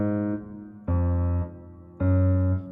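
A dark trap bass line built in FL Studio plays as three sustained, deep synth notes with a rich buzzing tone, each held about half a second with short silences between, loud and alone.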